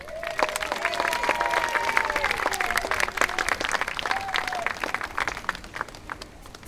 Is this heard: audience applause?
yes